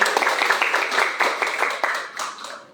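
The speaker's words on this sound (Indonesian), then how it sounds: "Beri tepuk tangan untuk kami" Applause from a student audience at a campus student-executive candidate debate, a dense patter of many hands clapping steadily and fading slightly toward the end.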